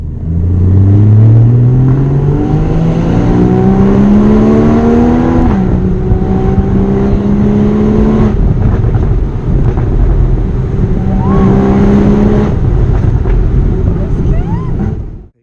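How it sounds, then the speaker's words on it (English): A Porsche Boxster GTS with the sports exhaust on and the roof down pulls hard through the gears, loud and close, its revs climbing and dropping with each shift before accelerating again. "I put the sports exhaust on, we had the roof down,"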